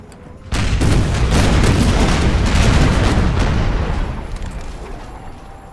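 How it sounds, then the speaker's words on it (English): Ship cannons fire in a Napoleon Total War naval battle with Ottoman ships, one heavy booming broadside that swells loudly, rumbles for several seconds, then fades. "See if I can maybe get some shots off with this one. Lining up pretty good to fire on this guy."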